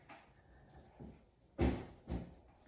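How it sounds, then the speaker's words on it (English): A bucket is kicked outdoors near a front door, giving a sharp hollow knock followed by a second softer thud, with a fainter bump just before them and no voices. "I'm kicking a bucket"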